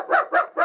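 Dogs bark a signal in a Disney 101 Dalmatians record, three quick close barks in a row, fairly loud and alone.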